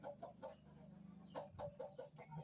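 Chickens cluck in short repeated bursts, close by, with a steady low hum underneath.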